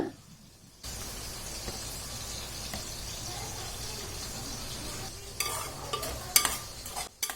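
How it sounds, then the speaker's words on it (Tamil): Marinated squid being stirred into biryani in a pot, heard as a close, continuous scraping and sizzling swirl that starts abruptly after a quiet moment and grows into louder clatters of a spoon against the pot near the end. "ஆட் பண்ணிவிட்டு அதை கொஞ்சம் மிக்ஸ் பண்ணி விட்டுறலாம்."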